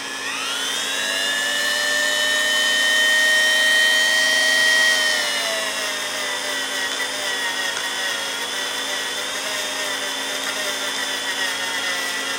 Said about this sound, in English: I figure the best way to do that is with the Dremel.